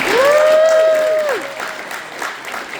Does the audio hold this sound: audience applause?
yes